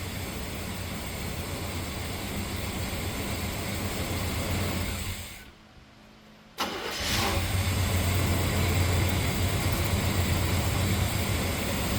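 A 1974 C10 pickup, one owner and off the road for 15 years, runs loudly up close, shuts off into a brief silence, then cranks and fires straight back up and settles into a steady idle.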